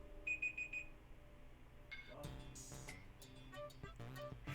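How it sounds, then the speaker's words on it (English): Short electronic alarm beeping in a quick cluster near the start, faint and thin, followed by softer clattering and room noise. "That's Creamy's alarm."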